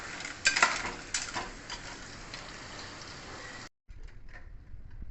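Clams cooking in a pan, with a soft steady sizzle and a few quick clicks of a spoon against the metal, then a brief silence before a quieter sizzle resumes.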